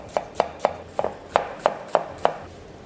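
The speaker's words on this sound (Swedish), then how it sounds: "Och även i här vill jag faktiskt ha en fint hackad gul lök här." A knife finely chops a yellow onion on a cutting board in a kitchen, with eight crisp, evenly spaced taps close by and no talking.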